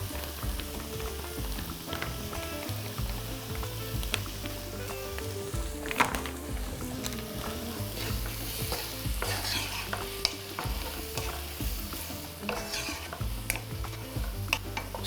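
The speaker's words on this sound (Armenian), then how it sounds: "Սոխը թող տապակվի, փափկի" Onions, caramelized with sugar and a little soda, fry in a pan with a continuous loud sizzle while a utensil stirs and scrapes them in steady repeated strokes, with no voices.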